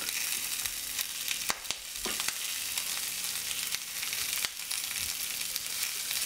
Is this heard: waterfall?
no